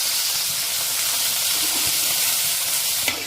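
Green turkey berries (sundakkai) sizzling in a hot pan, a steady close frying hiss with faint stirring scrapes and one brief clatter near the end, no talking.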